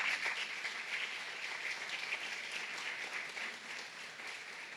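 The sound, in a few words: congregation applause in church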